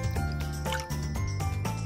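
Water splashes and drips as it is poured into a container to make a toy sea, a close, continuous liquid trickle with small splashy pulses.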